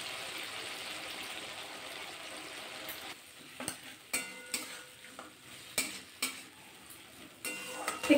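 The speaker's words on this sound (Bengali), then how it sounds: "একটু নাড়াচাড়া করে নিলাম পোস্ত দিয়ে" Poppy seed paste with potatoes and spices being stirred in a pan: a soft sizzle at first, then a run of distinct scraping spatula strokes with clacks against the metal, close and clear.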